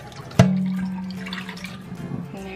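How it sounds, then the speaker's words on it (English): Hot water from the microwave is dumped into a kitchen sink, a sudden splash followed by a sustained hollow gurgle and drain rush, close and fairly loud. "Just put it in the microwave until it reaches the boiling point, and you just pour it down the sink"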